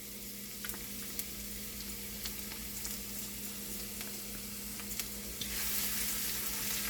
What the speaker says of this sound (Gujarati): પેનમાં મેં થોડું 3 ડોગલી તેલ નાખ્યું છે. તે ગરમ થાય પછી આપણે તેમાં લસણ નાખીશું.